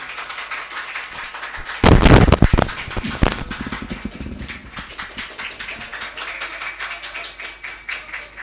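Loud applause from an audience at an Urdu-Hindi mushaira, a poetry gathering, welcoming the poet Faheem Jogapuri: a sudden heavy burst of clapping that then settles into steady, dense clapping lasting several seconds, with no talk over it.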